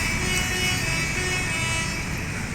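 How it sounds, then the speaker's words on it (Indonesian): A loud, close telolet horn from a Pertamina truck on an Indonesian road, sustained melodic tones held over steady traffic noise. "ada yang telolet tuh"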